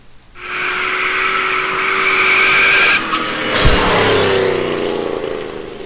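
Car racing hard with tires skidding and squealing, a loud steady engine roar with a sharp screech partway through, no talk.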